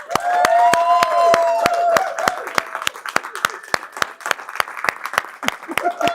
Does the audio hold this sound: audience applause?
yes